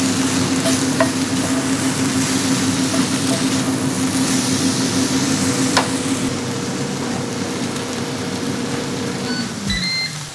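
An air fryer cooking salmon gives off a steady whirring fan hum with faint sizzling, then winds down near the end. A few short beeps follow.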